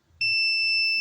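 A steady, piercing continuity beep sounds from a multimeter testing a transistor on a Polytron U Slim television. It starts abruptly and holds loud and unbroken for about a second.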